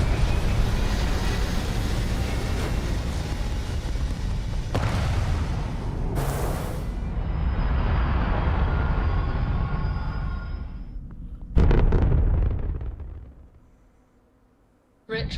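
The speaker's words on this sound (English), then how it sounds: "All thrusters firing." Spaceship thrusters firing in the Star Wars Genesis video game, a heavy sustained roar and rumble with a sharp surge partway through that then fades away, a voice heard over the noise.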